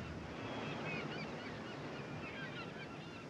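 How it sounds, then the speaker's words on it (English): Ocean waves break steadily on a shore, a continuous wash of surf and wind carrying through the whole stretch with no talking. "That and them damn waves flopping in all day long."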